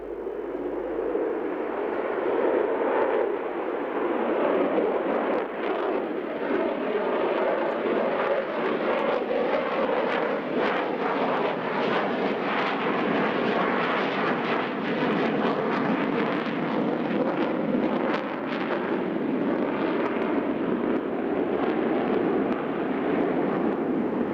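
An Air France Concorde jet departing Charles de Gaulle, a loud, sustained roar of engines that swells and holds steady for the whole stretch, heard from a distance without speech.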